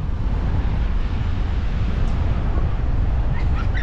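Steady, loud wind buffeting the microphone on a beach at Sanur, Bali, at low tide with shallow water, a constant broadband rush with no breaks.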